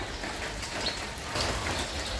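Steady morning rain falling on a window at a village house, a constant soft hiss of drops with no voices, even and moderately quiet throughout.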